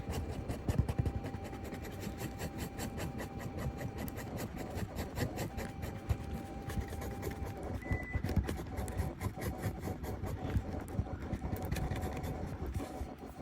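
Epoxy is stirred quickly with a stick for a Ram 1500 2500 truck door panel repair, a faint continuous scraping and rubbing with rapid rhythmic strokes.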